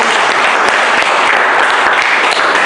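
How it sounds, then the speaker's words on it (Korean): Loud, close applause from a group gathered at a Won Buddhist meditation hall in Busan, a thick continuous patter of hands clapping at a steady level through the whole short burst. "박수를 치고"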